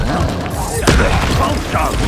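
Expulso blasting spell in Hogwarts Legacy, a single loud booming burst partway through amid dense combat noise and rumble, with game voices talking over it.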